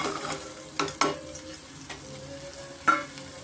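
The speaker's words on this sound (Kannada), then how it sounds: "ಸ್ವಲ್ಪ ನಾನು ಎಣ್ಣೆನಲ್ಲೇ ಫ್ರೈ ಮಾಡ್ಕೊತೀನಿ" Sprouted horse gram frying and being stirred in a couple of spoons of oil, a soft steady sizzle broken by a few sharp scrapes and clacks of the spoon against the pan.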